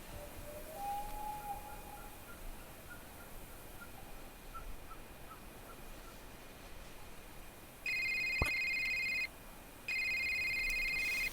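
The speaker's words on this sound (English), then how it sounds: "Phone call." In the video game A Short Hike, a soft chirping birdlike call gives way to an electronic phone ring sounding in two bright, sustained bursts over a quiet ambient bed.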